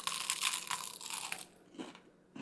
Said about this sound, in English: hear this crunch